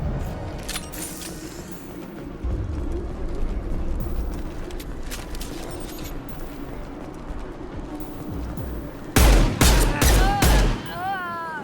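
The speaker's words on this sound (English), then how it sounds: "I'm glad it's you shooting up the place" Mass Effect 2 combat: muffled bursts of gunfire under a steady background rumble, then a close cluster of loud rapid shots near the end mixed with sharp electronic effects.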